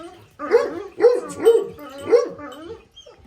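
A dog barks four times in quick succession, fairly close, with a faint voice in the background.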